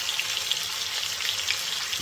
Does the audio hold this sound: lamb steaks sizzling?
yes